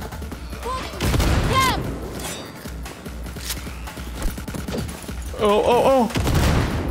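Scattered gunshots and booming impacts during a firefight in Cyberpunk, coming in irregular bursts while a person gives short exclamations over the action.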